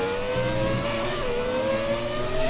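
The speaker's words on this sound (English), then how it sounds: "Car sounds incredible coming through here." Formula 1 race car engine in F1 2017, screaming at high revs through the Monaco tunnel, a steady rising whine with harmonics under a brief dip, loud and continuous with no talk.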